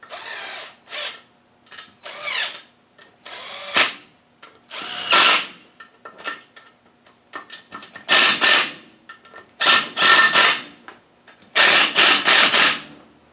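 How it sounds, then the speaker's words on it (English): A small power gun zips down bolts on a Land Rover LT230 gearbox casing in repeated short bursts of whirring and rattling, each lasting about a second, separated by brief pauses. "these are just sort of zipped down with a little gun"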